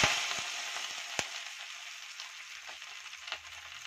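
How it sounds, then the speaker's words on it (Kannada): Spinach (palak) frying in oil in a kadai, a close, steady sizzle with occasional crackles and a few stirring scrapes, no voices. "ಪಾಲಕ್ ಸೊಪ್ಪನ್ನ ಎಣ್ಣೆಲಿ ಹಾಕೊಂಡು ಚೆನ್ನಾಗಿ ನಾವು ಫ್ರೈ ಮಾಡ್ಕೋಬೇಕು"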